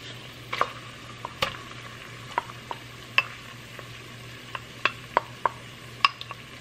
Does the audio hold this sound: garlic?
yes